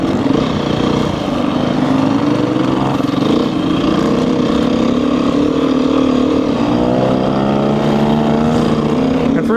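125cc dirt bike engine running, a steady loud buzzing two-stroke drone with rising and falling revs as it rides, nearby and continuous throughout.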